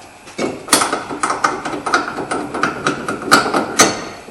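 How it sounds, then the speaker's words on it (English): Pushing a bolt out of a 2008 Dodge Caravan steering knuckle brings a series of sharp metallic knocks and taps, irregular and close, repeating about a dozen times with no talk. "we're just going to push this other bolt out"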